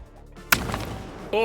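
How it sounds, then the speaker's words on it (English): Ten layered video game sound effects of flags dropping at once in a matchlock battle game, a sharp loud crack followed by a short rumbling decay, ending with a brief tonal chime. "it's 10 layered sound effects of flags dropping simultaneously"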